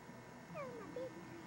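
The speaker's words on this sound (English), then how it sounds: "That's a nice dog, isn't it, Lauren?" A dog out in the woods by a lake gives a couple of faint, brief high whimpers over a quiet background hiss.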